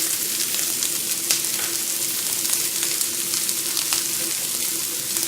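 Garlic dropped into hot oil with shallots and cauliflower crackles in a dense, steady sizzle, with bright popping spatters scattered throughout, close and loud with no talking.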